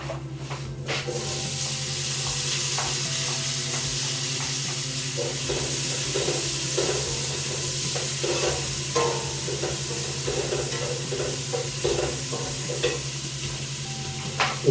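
Onions sizzle and fry in a pan of browned meat and brown sugar for a Karmeliet beer carbonade, with a steady loud hiss throughout and repeated scraping stirs, and no talk.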